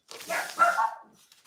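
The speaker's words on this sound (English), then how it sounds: "Sorry for the barking dogs." Dog barking indoors in a home sewing room, a quick, faint pair of yappy barks lasting about a second, alone.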